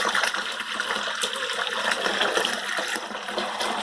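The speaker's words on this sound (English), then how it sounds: "let's get some aeration going on here" Homebrew beer wort is aerated after the boil, giving a loud, continuous rush of splashing, churning liquid that keeps going without a break and with no voices over it.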